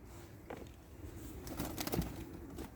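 A baby pigeon vocalizes faintly close by, with soft coos and brief squeaky calls clustered near the middle, plus a light flutter against quiet room noise.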